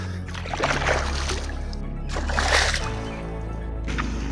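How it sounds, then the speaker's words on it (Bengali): Feet are washed in village pond water, producing two swelling rounds of sloshing and splashing close by, separated by a quieter pause, over a low steady hum. "এখানে একটু পাটা ধুয়ে নেই"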